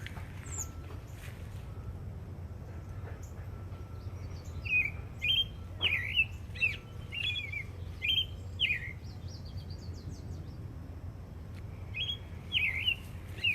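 Birds chirp and sing in short, bright, repeated phrases that come in clusters over a steady low background hum, fairly close and clear, with a pause before the calls resume near the end.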